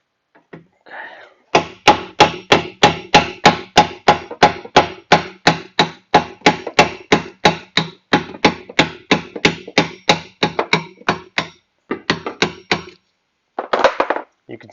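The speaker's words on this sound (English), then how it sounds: "we're just going to take the hammer, be hitting it on this lip right here, and that'll break it loose" A hammer strikes the lip of a car's drum brake over and over to knock the drum loose, giving a long run of sharp, loud, evenly spaced metallic blows at a steady quick rhythm, with short pauses near the end.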